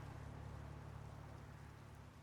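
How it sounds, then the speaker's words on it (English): Steady rain hisses softly in the video game Trails through Daybreak over a low, constant hum, an even wash of patter with no voices. "It's raining."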